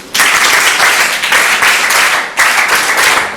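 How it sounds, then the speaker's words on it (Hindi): Students in a school classroom at Nagaji Saraswati Vidyamandir applaud a classmate, loud, dense clapping from the whole group that surges and dips in waves over a few seconds. "एक बार तालियां इनके लिए भाई।"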